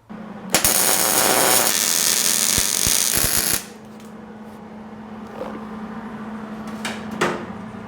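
A front bumper on a GTO restomod is welded, giving a loud, steady crackling buzz for about three seconds that cuts off abruptly. A low electrical hum and a few faint clicks follow.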